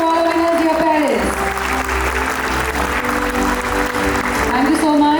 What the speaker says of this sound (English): A round of applause for all our winners